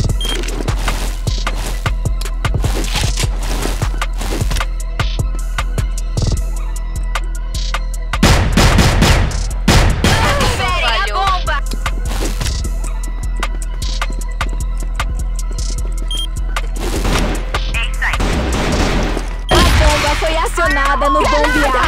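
Rapid bursts of gunfire from the video game CrossFire, loud, dense and repeated across the clip, with heavier clusters of shots at intervals under a constant game background.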